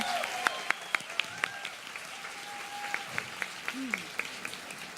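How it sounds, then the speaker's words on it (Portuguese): Applause for a performer called Churupita during a leadership talk, light scattered claps spaced out over a faint background, with voices heard in between. "palmas para a Churupita!"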